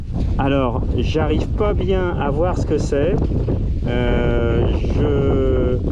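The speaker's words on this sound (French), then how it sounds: "je suis vraiment désolé pour le vent" Heavy wind buffeting a microphone, a constant low rumble beneath someone speaking throughout.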